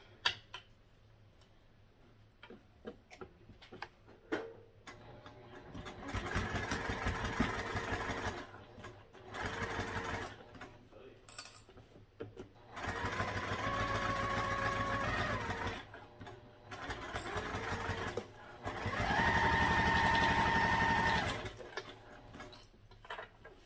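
A sewing machine with a zipper foot stitches a tote seam in several bursts of rapid mechanical whirring, each run lasting a few seconds and separated by short pauses, close and steady, with no voices.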